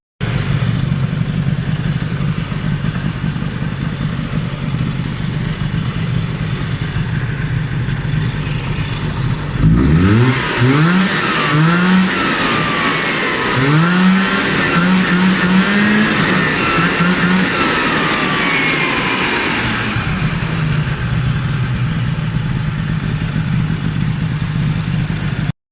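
A 1974 Ski-Doo Elan 250 twin snowmobile engine idles steadily while running out of gas, then revs and sputters unevenly for several seconds before settling back into a rough, continuous idle.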